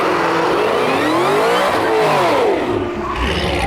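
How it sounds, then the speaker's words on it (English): Fifth-generation modern muscle car engine on a Corsa exhaust, revving loudly and continuously with rising and falling pitch at a drag-and-drive event, steady rumble close by with no talk. "listen to the sound of this thing on Corsa exhaust."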